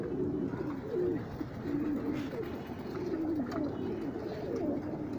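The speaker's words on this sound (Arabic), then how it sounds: "ادي اهو الحمام" Pigeons and young squabs coo steadily inside a loft, their low rolling calls overlapping continuously and close by against a dense background murmur.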